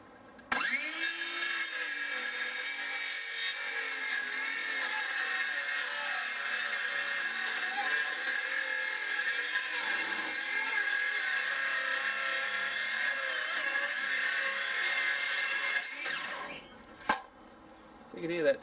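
An older-bladed Hitachi circular saw cuts wood at full depth, its loud, continuous whine labouring steadily for about fifteen seconds before spinning down and stopping.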